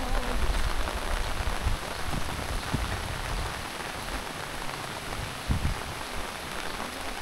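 Heavy torrential rain pours down steadily in a dense, unbroken hiss of drops drumming on surfaces, loud and close throughout, with faint low rumbles and no voices.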